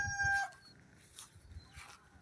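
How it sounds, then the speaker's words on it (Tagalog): Farm chickens cluck and call in short bursts, with a sharp squawk at the start and softer scattered clucks after it, close by and with no talk. "Yung mga manok nito"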